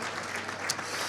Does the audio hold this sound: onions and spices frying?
no